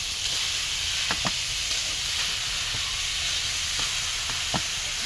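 Grated carrot for gajar halwa sizzling in hot ghee in a pan, a steady broad hiss with a few faint clicks and taps of utensils, no talking.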